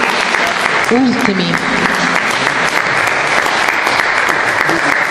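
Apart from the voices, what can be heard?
applause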